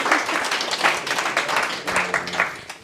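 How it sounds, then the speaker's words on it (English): A small audience at a UX design meetup claps after a talk on design systems: a short, steady patter of hands that stays fairly close and even throughout. "Yes, clap, clap."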